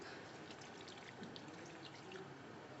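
Water poured into a pot of stew chicken being cooked, a steady broadband splashing and trickle that holds for about three seconds with no talk over it.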